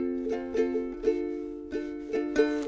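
Ukulele strummed downward with the thumb, soft chords ringing with a relaxed, uneven rhythm of about ten strums, close and clear with no voices.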